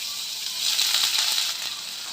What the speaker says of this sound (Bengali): পেঁয়াজটা দিয়ে দিলাম।